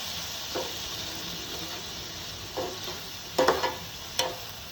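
Spices and carrot curry being stirred in a pan, with a few soft scraping strokes of a spoon over a faint steady sizzle.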